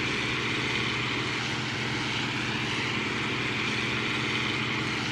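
A tractor engine in Farming Simulator 2013 drones steadily and loudly throughout, a dense rumbling hum with no pauses and no voices.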